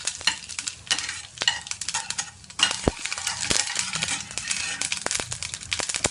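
Red chili, urad dal and mustard seeds frying in hot oil, a steady sizzle and crackle with scattered sharp pops and spatters, close and fairly quiet, running continuously with a brief lull midway.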